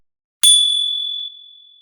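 A single bright notification bell ding rings out sharply, then sustains a clear ringing tone that decays slowly in otherwise silent surroundings.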